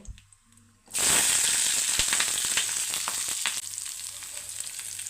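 Chopped garlic and green chillies hit hot oil for garlic pickle and burst into a loud, close sizzle that settles into a steady crackling fry with faint stirring, preceded by a moment of near quiet.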